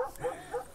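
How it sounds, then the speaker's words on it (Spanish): An elderly dog of about seventeen or eighteen years, with a once-broken leg, gives a few soft whimpering yips, faint and close, in a quick pair of short cries. "Es un perro que tiene como 17 o 18 años"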